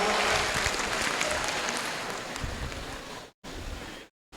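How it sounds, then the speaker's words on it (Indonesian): Loud, dense clapping from a student audience at a university orientation event in Indonesia, a steady roar of hands that cuts out abruptly near the end. "Tepuk tangan untuk kawan kita."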